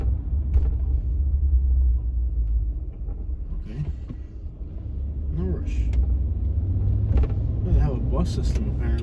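A street sweeper drives along a city street in Alexandria, Louisiana, giving a steady low mechanical rumble beneath someone talking, with occasional brief higher rattles and hisses over it.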